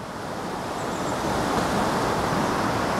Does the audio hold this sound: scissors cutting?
no